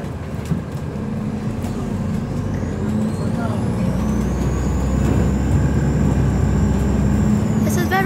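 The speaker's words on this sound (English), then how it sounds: "Unfortunately, this doesn't have as loud an engine as 6023, but it's still a good bus." The engine of Go North East bus 648 runs with a steady, loud low drone and rumble heard from inside, a rising whine building toward the end, while a person talks over it.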